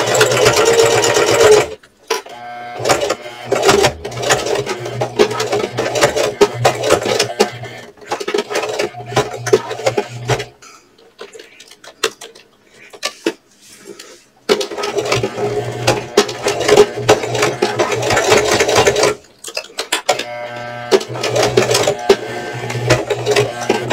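A sewing machine stitches through thick purse layers in several loud bursts of rapid needle strokes, separated by pauses with faint handling noises.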